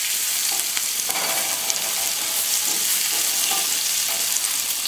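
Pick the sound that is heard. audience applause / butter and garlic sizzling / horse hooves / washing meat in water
butter and garlic sizzling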